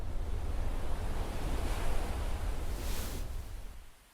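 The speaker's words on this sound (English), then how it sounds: "Wherever you go, as long as you have that shell, the sound of the ocean will be within reach." A seashell held to the ear gives a soft, steady rush like distant ocean surf, a hissing wash that swells gently before fading out at the end.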